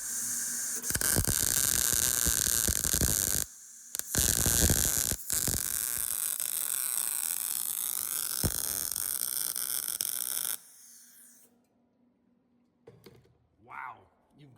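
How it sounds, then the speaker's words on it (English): A first practice weld laid down during a welding lesson, heard as a steady, loud hiss and crackle lasting about ten seconds, broken by two brief pauses, then cutting off to near silence with a few faint voices afterward. "here goes your first weld"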